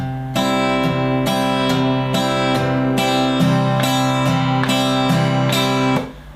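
A guitar strummed in steady down and up strokes, chords ringing bright and full in a regular rhythm, then stopping near the end.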